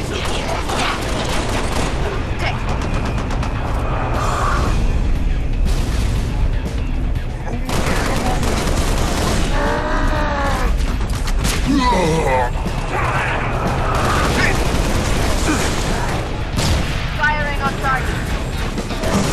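Halo Reach weapons fire in repeated heavy bursts and booming blasts with mechanical whirs, loud and sustained across the whole stretch, while voices speak over the battle at times.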